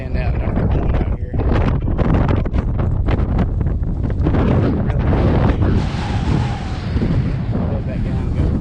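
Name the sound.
wind blowing into the microphone at Fort Morgan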